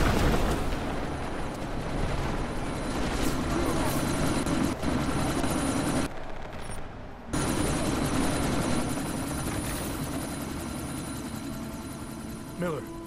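Helicopter in the video game Deus Ex: Mankind Divided, a loud continuous rotor and engine roar that drops out briefly midway, then resumes under scattered game noise.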